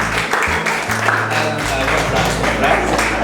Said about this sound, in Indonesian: yang dari tadi nahan tepuk tangan,